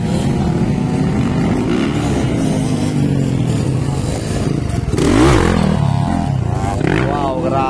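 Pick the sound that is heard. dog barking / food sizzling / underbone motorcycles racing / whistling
underbone motorcycles racing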